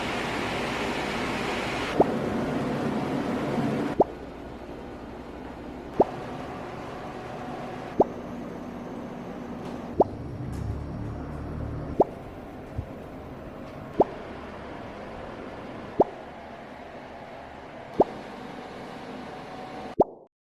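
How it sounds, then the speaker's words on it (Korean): A dehumidifier at maximum fan speed: steady broadband fan noise with a low hum runs continuously, its tone shifting every couple of seconds, each change marked by a small click. "일반 모터를 사용한 제품은 공통적으로 웅웅 하는 컴프레서 소음이 크게 들렸습니다"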